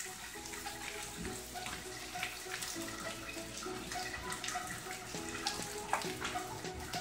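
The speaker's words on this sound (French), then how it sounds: "Le son que ça fait quand ça pétille comme ça là." Steak frying in a pan gives a steady, dense sizzle and crackle that continues without pause, close and fairly loud, with no voices.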